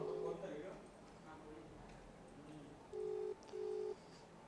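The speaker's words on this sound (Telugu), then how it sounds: "రింగ్ అవుతుంది ఫోను" Two long electronic ringback tones repeat near the end, following a stretch of quiet, muffled background noise.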